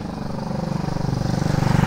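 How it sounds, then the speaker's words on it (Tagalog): Motorcycles and other vehicles pass along a busy street, a steady engine drone with a rising, pulsing putter that grows louder as one nears close by, with no talk. "Ang daming motor."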